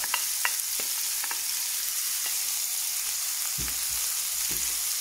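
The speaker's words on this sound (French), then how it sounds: "dans la même poêle je vais mettre un oignon coupé très fin avec un poivron" Thinly sliced onion and bell pepper sizzle steadily in a pan while cooking Moroccan salmon and shrimp pastilla filling, with a few soft stirring knocks and clatters over the continuous hiss; no one speaks.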